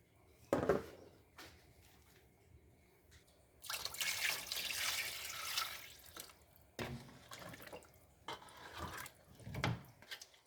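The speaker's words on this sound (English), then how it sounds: "So I will be adding more water to this." Water pours into a pot of African palm butter sauce with meat cooking in it, making a few soft trickling and splashing bursts. Quiet pauses and small clinks fall between them.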